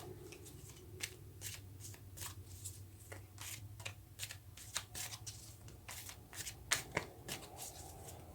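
A deck of tarot cards is shuffled by hand, producing quick, close, crisp riffling and flicking snaps in an irregular rhythm, quiet overall, with no voices.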